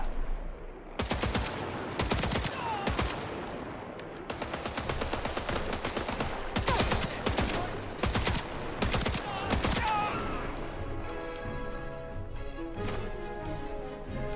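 Rapid gunfire in the video game Indiana Jones and the Great Circle: dense bursts of automatic shots and single cracks, loud and close, running almost continuously, with a short lull near the end.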